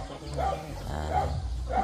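A pet dog in a backyard gives three short, muffled barks at an even pace, close by over a steady low background rumble.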